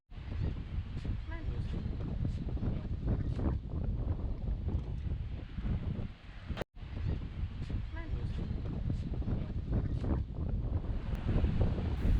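Steady wind roars across the microphone on the beach at Padre Island National Seashore, Texas, with surf washing continuously underneath, loud and unbroken except for one brief dip.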